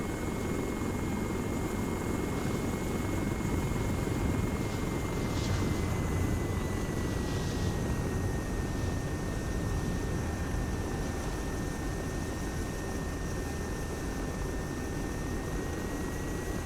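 An aircraft in the video game Arma runs through a landing and takeoff, giving off a steady, unbroken engine and rotor drone at a constant level throughout, with no talking.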